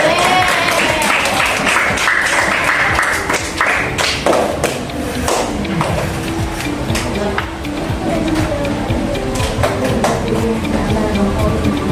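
A group at an elementary school coaching session for academic supervision applauds everyone, with uneven clapping mixed with taps, thumps and background music-like tones over about twelve seconds.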